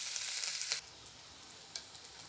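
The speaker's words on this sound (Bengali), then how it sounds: "এবার আমি দিয়ে দিচ্ছি পেঁয়াজ কুচি, কিছু রসুন কুচি এবং কাঁচামরিচ। একসাথে এটা ভেজে নেব।" Chopped onion, garlic and green chili dropped into hot oil for a prawn and bitter gourd dish, giving a brief loud sizzle that drops to a quieter steady frying hiss, with a sharp utensil tap near the end.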